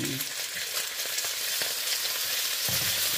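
Chicken breast frying in a pan for pansit bihon, a steady bright sizzle throughout with occasional stirring scrapes.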